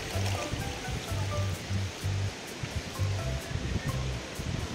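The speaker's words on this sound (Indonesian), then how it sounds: "Dan ini sudah terkenal juga sih, ya itu namanya Sungai Tamburasi" The Tamborasi River, a very short river in Kolaka, rushes with steady broadband water noise and a constant close flow, with faint low rumbles underneath and no talking.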